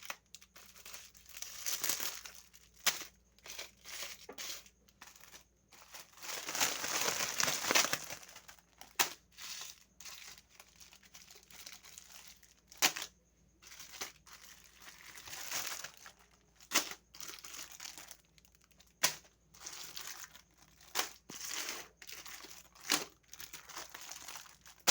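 Plastic packets of edible gum (gond) are handled and squeezed up close, giving repeated crisp crinkling and crackling bursts in irregular clusters, with one longer loud rustle near the start and brief quiet gaps between.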